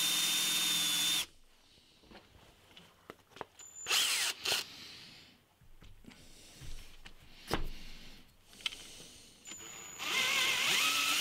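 A power drill whirs loudly boring through wood, stops, then clatters and knocks through handling sounds before winding up again at full speed; no talking.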